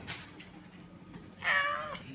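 An injured cat, likely hit by a car and with a diaphragmatic hernia, gives one loud, close, drawn-out meow at a veterinary clinic after faint rustling and handling noises.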